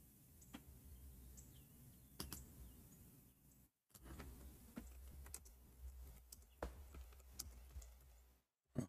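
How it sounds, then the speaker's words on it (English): Typing on a computer keyboard, irregular clusters of faint, close key clicks and taps with short pauses between bursts, quiet and alone with no talk. "I'm typing Arabic to him."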